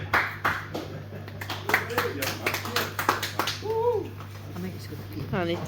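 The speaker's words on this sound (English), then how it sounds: "Another big round of applause for Raymond." Scattered audience clapping at a live show, a patchy burst of claps in the first half that thins out, mixed with crowd noise and a voice speaking near the end.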